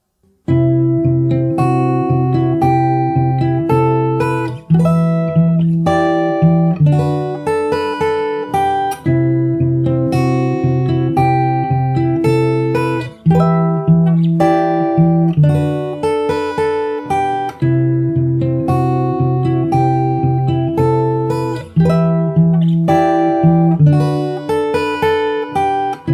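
Fingerstyle acoustic guitar plays a pre-chorus: plucked notes over repeating low bass tones, steady and close, with a few breaks where the pattern restarts, no voices.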